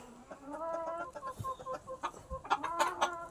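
Chickens cluck close by inside a coop, a busy, continuous patter of short calls with no voices over it.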